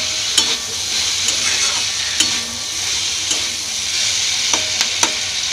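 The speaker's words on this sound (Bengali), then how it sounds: "আগে আমি মশলাটা ভালো করে কষিয়ে নিই, সবজিটা ভালো করে কষিয়ে" Spices and vegetables fry and get stirred in a pan for homemade sambar, a loud continuous sizzle broken by repeated sharp spoon scrapes and clicks against the pan, with no voices.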